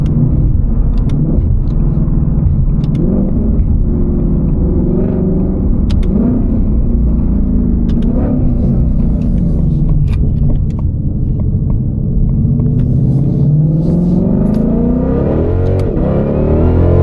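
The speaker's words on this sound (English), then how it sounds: "The Predator V8, man, sounds incredible." A Shelby GT500 with its Predator V8 accelerating on the road, a loud close engine note rising and falling through several pulls, with a deep rumble and climbing pitch near the end.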